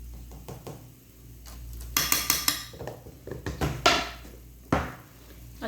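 Chana dal halwa is stirred in a metal pan. A spoon scrapes and clinks against the pan in short bursts, with quiet pauses between the strokes.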